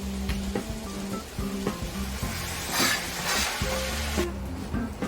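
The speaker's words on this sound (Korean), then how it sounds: "닭다리살 한 덩이와 양파, 파프리카, 관자, 새우 그리고 너무 많이 사서 감당이 안 되는 토마토 전부를 모두 냄비에 차례대로 볶았다" Chicken thigh, onion, paprika, scallops, shrimp and tomatoes are stir-fried in a pot at home, a loud steady sizzle with repeated scraping and clinking stirs close by.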